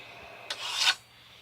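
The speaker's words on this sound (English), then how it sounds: "And then you scribe your circle." A scriber drawn across steel plate, marking out a circle: one short scratchy rasp lasting about half a second, close and fairly quiet, with no talking.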